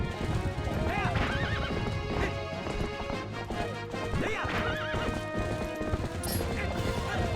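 Galloping hooves clip-clop steadily through a boar ride in The Legend of Zelda: Twilight Princess, mixed with neighing cries and crashing hits over loud orchestral game music.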